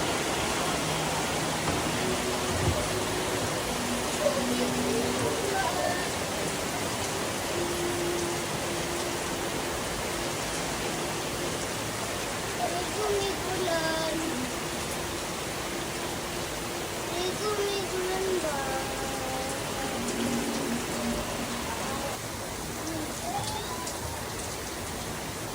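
Steady rain patters and hisses on surfaces throughout, with faint voices and a few tonal sounds drifting in beneath the downpour.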